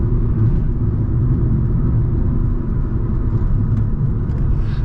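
Renault Clio 1.3 TCe with 130 hp EDC gearbox cruising around 95-100 km/h at light throttle, just under 2000 rpm: a steady, low engine and road rumble from inside the cabin, no voices.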